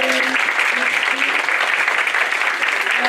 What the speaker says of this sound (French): Est-ce qu'on peut donner une main d'applaudissement pour Martin?